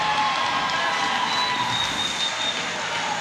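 A large weightlifting arena crowd roars and cheers steadily for CJ Cummings during a clean and jerk attempt at the 2017 IWF World Championships, a dense, loud, sustained wash of voices and whistles.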